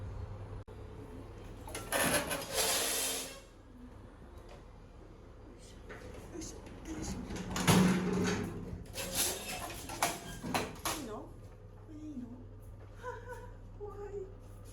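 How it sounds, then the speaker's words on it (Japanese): An old manually operated elevator in a Hong Kong building, its outer door pulled shut by hand, giving scraping, sliding and clanking metal sounds at close range with some rattling, and no talk. "どうやら外側のドアも手で閉めるみたい。"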